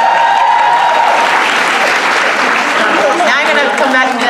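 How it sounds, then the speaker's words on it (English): Loud, dense audience applause and cheering fill the room at a live comedy show, with voices shouting and talking over the clapping throughout. "Can I get a round of applause, please?"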